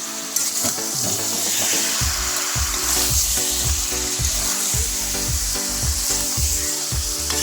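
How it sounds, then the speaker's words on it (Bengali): Desi chicken stir-fried in a pan, loud close frying hiss under a regular series of heavy scraping strokes of a spatula, about one every half second, with no voices. "এবার আমরা ঢাকনাটা খুলে ভালোভাবে নাড়াচাড়া করে কষিয়ে নিচ্ছি"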